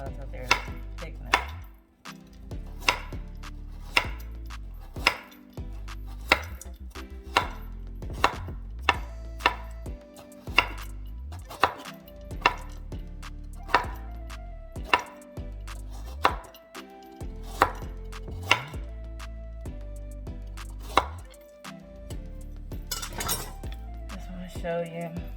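Knife repeatedly chopping carrots on a cutting board while cooking a teriyaki beef noodle stir fry, a steady series of sharp, close taps with a low background hum and faint clinks.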